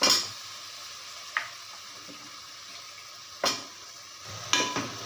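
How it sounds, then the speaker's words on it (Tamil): Chopped vegetables for a kurma sizzle quietly in a pan, broken by a few sharp metal scrapes and clanks from stirring. "இப்போ நம்ம வெட்டி வச்சுருக்க காய் எல்லாத்தையும் இதில் போட்டு ஒரு வதக்கிடலாம்."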